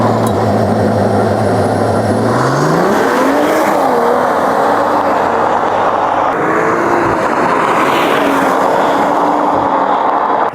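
A 2025 Mercedes-AMG CLE53 accelerates hard from inside the cabin, its boosted, partly artificial engine note rising steadily in pitch through the gears, loud and continuous with a brief shift dip and no talking.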